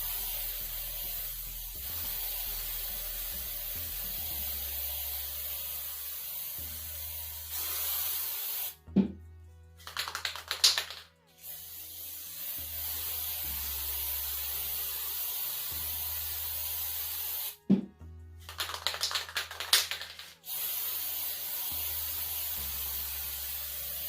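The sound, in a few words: spray painting bottles with a spray can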